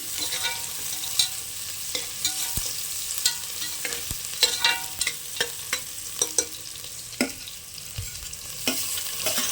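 Greens and green gram being sautéed in a pan for a curry, a steady sizzle broken by frequent sharp scraping and stirring clicks of a spoon against the pan, close and fairly loud, with no talk.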